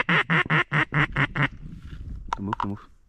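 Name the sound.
duck quacking on a lake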